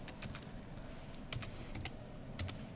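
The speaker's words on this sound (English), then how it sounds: "For this, type the command import" Typing on a computer keyboard to enter a Python import command in Ubuntu, with a quick series of light, close clicks and taps at an uneven rhythm, faint and alone.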